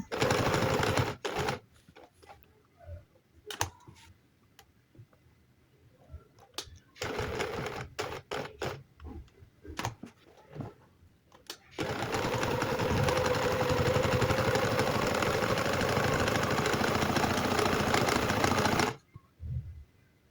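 A sewing machine stitches along the base of boot piping, giving several short broken bursts of whirring and then one long steady run of stitching before it stops.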